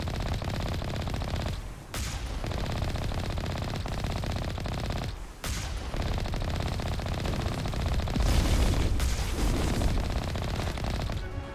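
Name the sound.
gunfire from snipers in Mass Effect video game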